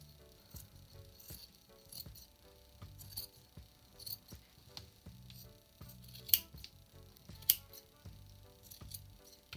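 Scissors snip repeatedly through the yarn pile of a handmade tufted rug, a quiet, close series of short crisp cuts in an irregular rhythm with faint rattling between them.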